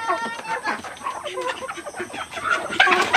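Native chickens cluck and chatter in a close, busy flock, with overlapping short calls throughout and a louder burst near the end.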